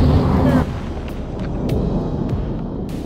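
A frag grenade detonates in the war shooter game Six Days in Fallujah: a loud, close blast that settles into a sustained rumbling roar, with faint clicks scattered through the tail.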